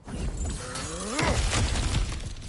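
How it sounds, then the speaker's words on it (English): Objects smashed apart in God of War Ragnarok, a short crash with shattering debris and a groaning creak, set against low game ambience. "back to smashing through things for fun and profit"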